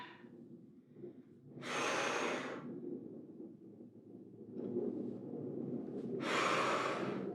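Two loud, close exhalations during a shoulder exercise, a few seconds apart, each rushing for under a second over a low steady background. No talking.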